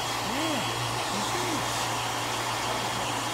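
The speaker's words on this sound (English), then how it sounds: "the sound of the dryer drowns out what Ian is saying" Hand dryer running steadily and loudly, a constant airy roar that drowns out faint speech underneath.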